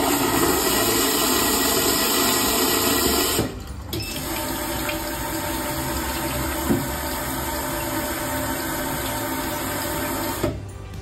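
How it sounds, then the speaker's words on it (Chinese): Smart toilet flushing automatically: a loud, steady rush of water lasting several seconds, then a short pause and a quieter refill flow that continues before another brief break. "自动冲水了，拜。"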